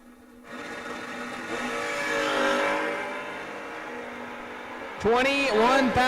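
A Chevy II drag race car accelerates down the strip, its engine roaring in a broad swelling drone that builds and then holds before a sharp, high revving burst near the end.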